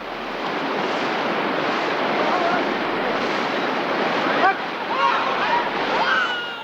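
Loud, steady rush of turbulent river water at a crossing in Afghanistan, filling the scene without a break, with a brief splash-like burst near the end.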